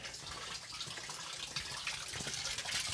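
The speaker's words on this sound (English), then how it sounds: "we can see the increase in the flow of the water coming out" Water gushing from the drain valve of a home water heater during flushing, a steady, dense rushing flow heard close and continuous throughout.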